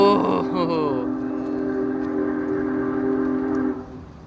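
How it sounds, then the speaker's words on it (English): Union Pacific 4014, a big steam locomotive, sounds its deep chime whistle in one long, loud, sustained blast of several seconds while moving at yard speed past freight cars, with rail rumble beneath. "That deep whistle."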